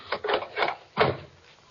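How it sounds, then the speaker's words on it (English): A radio-drama door being bolted: several short wooden knocks and slides in quick succession, ending in one firmer clack, close and fairly quiet. "First thing to do is bolt the door."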